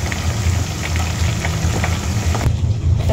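Chicken skin frying in a pan for crispy chicken skin, with a steady, dense crackling sizzle running throughout at close range and no talking.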